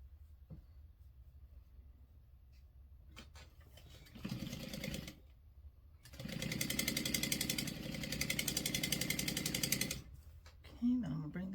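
A sewing machine stitches a quarter-inch quilt seam on a diamond chain quilt, running in close, rapid mechanical bursts: a short run, a pause, then a longer steady stretch.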